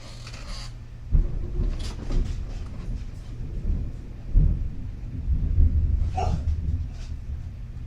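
Thunder during a severe storm rolls as low broadband rumbles, with several swelling booms across the stretch and a brief higher crackle near the end; no one speaks.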